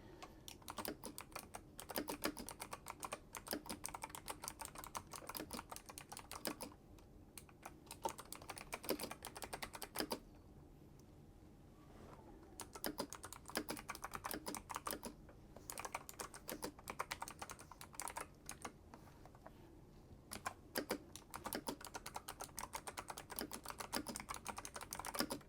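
Steady typing on a computer keyboard, with quick irregular clusters of close, soft key clicks and brief pauses between bursts.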